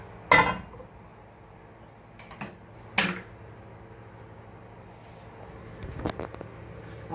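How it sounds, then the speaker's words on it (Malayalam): Three separate clattering knocks of a cooking pot being picked up and set down on a gas stove in a home kitchen, followed by softer scattered clinks. "നമുക്കപ്പോൾ ഏത് പാത്രത്തിലാണോ ഉണ്ടാക്കുന്നത് ആ പാത്രം എടുത്ത് വെക്കാം"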